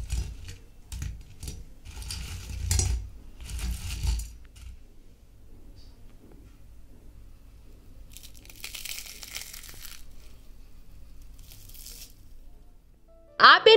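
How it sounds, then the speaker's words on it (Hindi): Crispy fried potato-onion pakoras give off short, crackly crunches in two separate bursts, fairly faint and close, with quiet stretches between them. "पकौड़े अच्छी तरह से फ्राई हो चुके हैं, मैं आपको पकौड़ों की क्रिस्पीनेस सुनाती हूँ"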